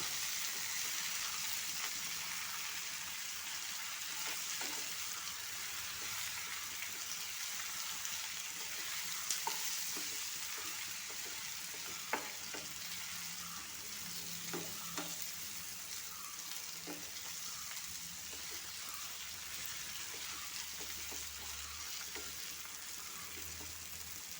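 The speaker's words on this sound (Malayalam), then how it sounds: "ഇനി ഇത് അടപ്പ് തുറന്ന് ഇളക്കി കൊടുക്കാം" Chicken chukka sizzles in an open pan as the lid comes off and it is stirred. A steady, bright frying hiss runs throughout with occasional soft scrapes and taps of the spoon, close and even, and no talk.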